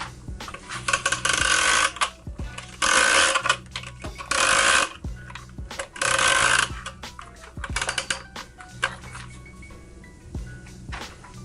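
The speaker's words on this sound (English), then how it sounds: "Now that our fan is hanging, we're just going to ratchet it up and make it nice and tight and secure." Ratchet hanger cranked to raise and tighten a grow tent fan: bursts of rapid metallic ratcheting clicks in four or five loud, close runs, separated by brief pauses with lighter clicks.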